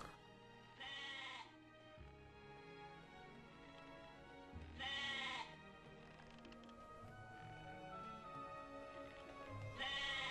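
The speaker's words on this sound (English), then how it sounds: "Oh, a black sheep." A black sheep in a video game bleats in three distinct calls spaced a few seconds apart, each a short wavering cry over soft game music.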